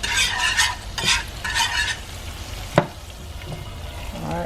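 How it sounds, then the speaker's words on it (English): Chicken stir-frying in a pan for General Tso chicken, with steady sizzling and frying and bursts of stirring and scraping, one sharp clack partway through, close and moderately loud with no talk. "We're going to let this stir, maybe for 1 minute."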